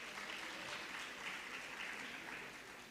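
Hall audience at a nursing-college gathering breaks into sustained applause for participating nursing colleges, a dense, even wash of many hands clapping at steady volume throughout.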